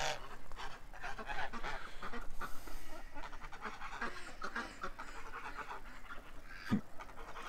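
Ducks quack and honk faintly as they come out of their pen after being shut in, scattered calls over a low background of rustling and panting.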